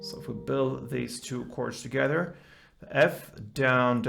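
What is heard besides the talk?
None of the usual background noises is heard.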